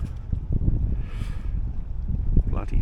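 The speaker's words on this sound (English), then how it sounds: "Bit windy." Wind blowing outdoors at an overnight camp beside the water, a steady gusty rumble buffeting the microphone throughout, loud and close, with no clear voices.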